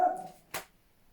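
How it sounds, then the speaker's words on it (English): A dog gives one short bark in the background, followed a moment later by a soft clack, leaving a quiet room afterward. "My dog having a little bark in the background there."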